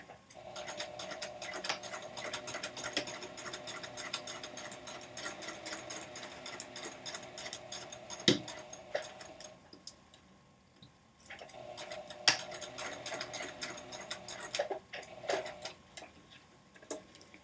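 A sewing machine stitches a fitted face mask with fast, steady mechanical ticking and whirring, pausing briefly midway before running again.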